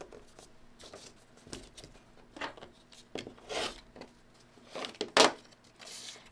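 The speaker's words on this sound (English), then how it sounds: "Now I want to trim it for G2." Fabric for a quilt block being trimmed, with faint rustling and handling noises and one brief, sharp snip-like sound near the end, all quiet and close, with no talking.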